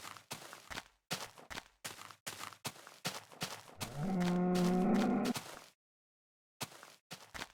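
Minecraft cows, one long low moo of about a second and a half standing out after a run of short blocky footstep-like thumps, then silence and a few more thumps.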